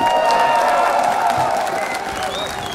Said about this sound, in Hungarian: Egy tapsot kérek szépen ezért!